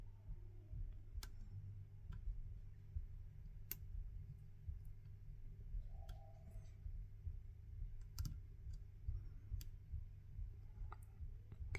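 A lock pick works the pins of a vintage Hungarian padlock, giving sparse, faint, sharp clicks at uneven intervals over a low, steady hum in a quiet room.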